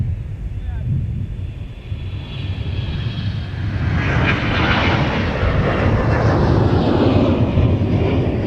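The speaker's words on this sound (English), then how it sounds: "on the takeoff roll now on 30 left is now our flight headed to Fort Lauderdale" A Delta airliner bound for Fort Lauderdale accelerates down runway 30 left at MSP, its engine roar swelling from a distant rumble into a loud, steady broadband rush, with faint wind noise in the background.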